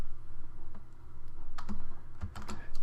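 Fingers type on a computer keyboard while code is written, with close, crisp key clicks in short irregular bursts and a few louder strikes. No one speaks.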